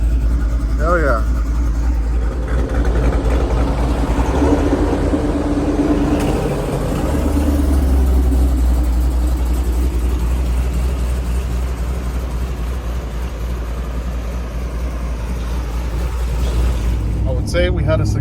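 A cammed GMC Sierra regular-cab short-bed truck idles steadily nearby with a low, continuous engine rumble, while people talk over it throughout.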